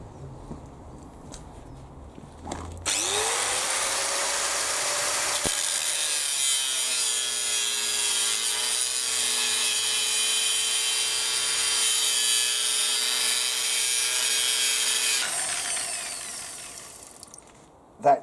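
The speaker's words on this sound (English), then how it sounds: "the grinder will take off any bad marks in it like that" A smaller grinder works the over-dimension tang of a langsax knife blank, a steady, loud grinding drone that spins up and holds for about twelve seconds before winding down, with no talk.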